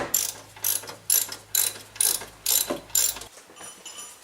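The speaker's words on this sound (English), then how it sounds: "You can go ahead and tighten the upper alternator mounting bolt with our 14mm ratchet" A 14mm ratchet tightening the upper alternator mounting bolt on a Honda Civic: about eight crisp, evenly spaced ratcheting clicks in quick succession, close and clear, with a faint hum stopping near the end.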